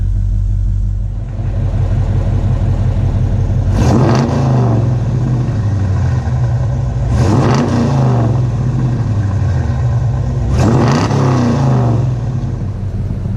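An older Dodge Challenger R/T engine idles with a deep rumble and is revved three times, each burst sharp and loud before dropping back to idle.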